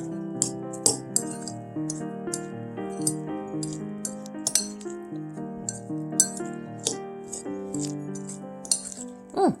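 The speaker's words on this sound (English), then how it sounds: "Now let's stir that all up." A spoon clinks and scrapes in a bowl as a filling of basil, black pepper and lemon juice is stirred, giving irregular bright taps over steady tonal background music.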